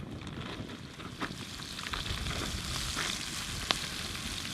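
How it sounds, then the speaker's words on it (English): Dredged beef pieces browning in hot oil give a steady, low-level sizzle throughout, with a couple of faint pops and crackles rising briefly above the frying noise. "just when that oil's hot enough, that's when we'll add the beef for browning"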